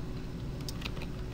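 A few quick clicks of keys on a computer keyboard, light and close, over a steady low background hum.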